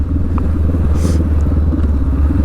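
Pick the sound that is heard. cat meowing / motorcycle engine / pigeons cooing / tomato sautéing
motorcycle engine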